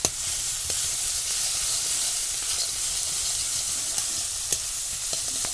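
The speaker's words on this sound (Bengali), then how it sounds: "এই জলটাকে আমি এটার মধ্যে দিয়ে দেবো" Water with pepper and soy sauce hits a hot pan and sizzles hard in a steady, loud, hissing fry, with a few sharp clinks of a utensil against the pan scattered through it and no voices.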